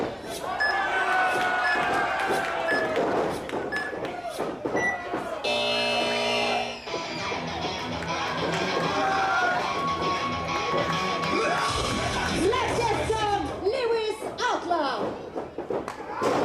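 A wrestling crowd at a Christmas show in Sainte-Anne-des-Plaines yells and jeers at a bald wrestler, loud continuous crowd noise with a buzzer blast and ring thuds mixed in, under an announcer's voice.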